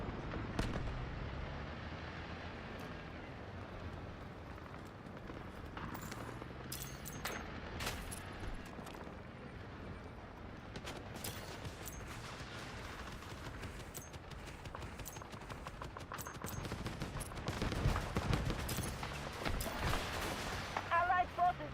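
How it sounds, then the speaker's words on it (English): Artillery barrage in the shooter game Delta Force, rendered as a long stretch of scattered distant booms and crackling impacts over a steady battle din, thickening toward the end, with speech-like voices mixed in. "Artillery barrage incoming."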